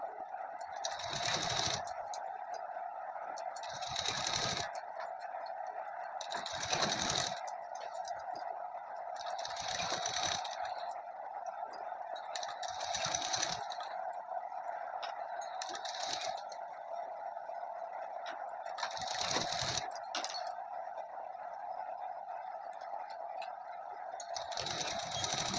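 A sewing machine runs while a suit is stitched, a continuous mid-pitched whir broken every few seconds by short, louder bursts of rustling fabric handling, at a moderate level.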